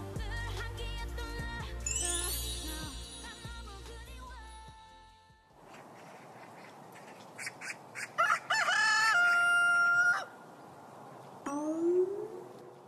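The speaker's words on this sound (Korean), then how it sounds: "닭이 많이 울어요." A rooster crows several times, loud and nearby, its drawn-out calls rising and falling, with a few other bird sounds between them.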